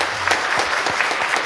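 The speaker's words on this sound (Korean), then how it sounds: "박수로 맞이해 주세요." A church congregation applauds to welcome a new choir soloist, a steady close patter of clapping from many hands that continues evenly throughout.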